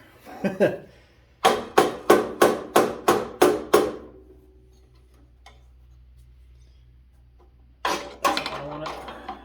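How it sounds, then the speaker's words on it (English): A hammer taps a pry bar to knock loose the shaft on a 1970s 4HP Tecumseh Moto Mower snowthrower, a quick run of about eight sharp metallic strikes, then a pause and a few more hits. "tap that in with a hammer, and then hit the shaft, and it should come loose"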